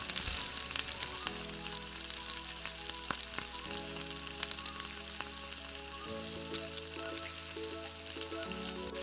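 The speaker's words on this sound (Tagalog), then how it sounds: "Isautay po natin ang ating sibuyas." A large batch of sliced onions sautés in a hot pan for a dilis dish, giving a continuous close sizzle broken by scattered spatula clicks and scrapes, with a low steady tonal hum underneath.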